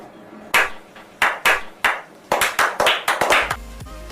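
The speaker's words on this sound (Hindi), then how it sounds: "तालियां।" Sharp, close percussive claps in a short irregular burst of about a dozen hits, getting quicker toward the end, like a sparse applause effect.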